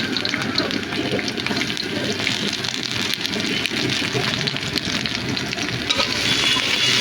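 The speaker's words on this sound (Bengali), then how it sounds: "আমি গরম তেলের মধ্যে পেঁয়াজ কুচি এবং কাঁচামরিচ ফালি করে কেটে নিয়েছি" Chopped onion and sliced green chilies fry in hot oil for a potato and green banana curry, giving a steady, dense, close sizzle that hisses and crackles without pause throughout.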